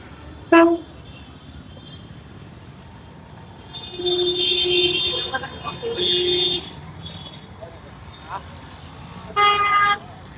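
Horn blasts at a busy spot beside a railway station, with tonal honks rising over crowd chatter and traffic, a short burst early, longer sustained tones in the middle and another short blast near the end.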